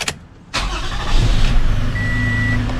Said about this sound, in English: So I'm going to start up the car.